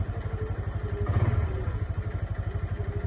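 A motorcycle engine idles nearby with a steady, rapid rattling clatter from its tensioner running through it, rhythmic and unbroken throughout.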